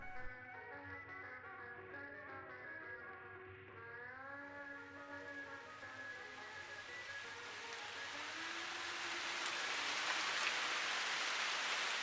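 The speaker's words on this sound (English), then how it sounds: "The drizzle had become a deluge, bouncing knee-high off the concrete." Heavy rain pours onto concrete at a railway platform, a hiss that swells steadily louder over several seconds beneath a faint tonal hum.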